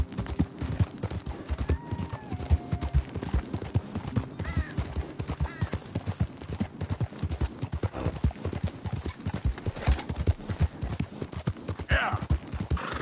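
A horse gallops in a PS4 video game, its hoofbeats a rapid, regular clip-clop that runs throughout, with a brief whinny early on and a couple of louder bursts near the end.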